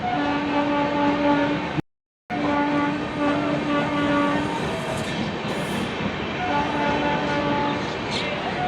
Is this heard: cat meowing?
no